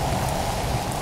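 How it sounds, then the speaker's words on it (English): Acid rain in the Roblox game Natural Disaster Survival, heard as a steady, dense hiss of falling rain throughout, loud and continuous with no talk over it. "Acid rain!"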